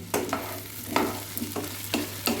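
Salted potatoes frying in a pan while a spatula scrapes through them in regular strokes, about five distinct stirs over a constant close sizzle.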